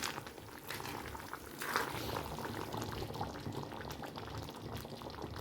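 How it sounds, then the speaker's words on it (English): A Chinese-style vegetable gravy with cornstarch slurry bubbles and simmers in a pan as it thickens, a steady soft boiling sizzle with gentle liquid gurgles throughout. "as the slurry cooks, it will thicken"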